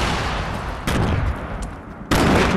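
Grenade explosions in a Fortnite match, two abrupt loud blasts about a second apart over a dense rumbling background of game noise, close and heavy.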